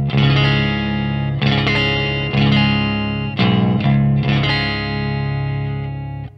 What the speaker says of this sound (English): this is the clean sound on the Baritone Jazzmaster in B standard